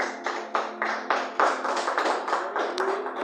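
A church congregation claps in rhythm, a steady run of sharp hand claps repeating about every quarter second, close and fairly loud, with no talking over it.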